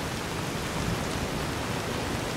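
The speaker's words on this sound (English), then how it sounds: "this rain is too loud" Heavy rain in the video game Fallout New Vegas pours down as a loud, dense, unbroken hiss that holds steady from start to finish with no voices.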